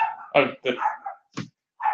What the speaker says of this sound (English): you have my little dog barking in the background